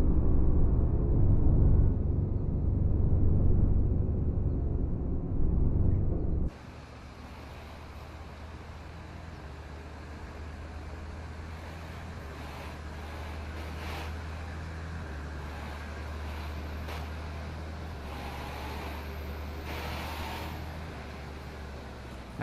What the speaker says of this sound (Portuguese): Barulho do ônibus é muito silencioso, né, galera?